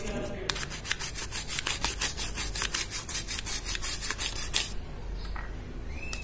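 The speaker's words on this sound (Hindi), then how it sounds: "हल्का हल्का ब्रश में लेना है, उससे बिल्कुल ये बिल्कुल क्लीन हो जाएगा" A brush scrubbing a computer motherboard with cleaning chemical, heard as quick, rhythmic back-and-forth bristle strokes, close and fairly quiet, stopping near the end.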